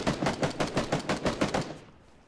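Gunfire in a battle royale video game: a rapid, evenly spaced string of about eight loud shots that then trail off into quiet.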